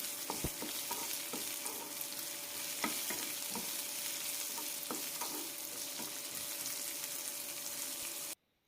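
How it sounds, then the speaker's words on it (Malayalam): Bitter gourd and onion sautéing in hot oil: a steady close sizzle with scattered spoon scrapes and stirring clicks, continuous and fairly loud until it cuts off abruptly near the end. "സവാള ഇതുപോലെ ചുവക്കുമ്പോൾ പാവയ്ക്ക ഇടാം. എണ്ണയിൽ നന്നായി ഒന്ന് വഴറ്റിയെടുക്കാം."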